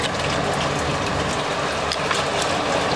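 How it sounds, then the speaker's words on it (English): Steady rain falls outdoors during a heating-system power flush in Accrington, a constant broadband hiss of drops on surfaces that stays even and fairly loud throughout. "Actually raining now, which isn't good"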